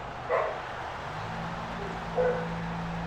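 A dog barks twice, at the start and again near the end, with sharp loud yips over a low steady background hum.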